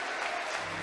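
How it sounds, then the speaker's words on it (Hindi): Brief burst of dense clapping from a Safe Shop meeting audience cheering women members, heard alone for under a second. "तो जोरदार तालियां होनी चाहिए इन सारी धाकड़ों के लिए।"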